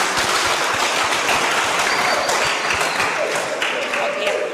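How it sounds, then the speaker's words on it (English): An audience at a university discussion on family planning applauds, and dense, loud clapping holds steady throughout, close and full. "Can we give them another round of applause?"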